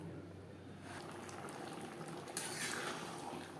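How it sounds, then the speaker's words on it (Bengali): Snake gourd and masoor dal boiling in a covered pan over a low gas flame, giving a faint, steady bubbling simmer with a slight swell partway through and no voices. "চিচিঙ্গা ও ডাল সেদ্ধ হওয়া পর্যন্ত রান্নাটা করব। গ্যাসের ফ্লেমটাকে লোতে করে দেব। ঢাকনা চাপা দিয়ে রান্নাটা করব।"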